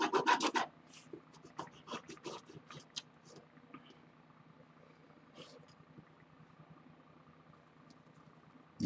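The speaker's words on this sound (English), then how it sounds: "And then I burnish that down." Tape being burnished down with a bone folder during lino cut printing, a close dry rubbing and scraping in short uneven strokes, loudest at the start and then quieter, with no one talking.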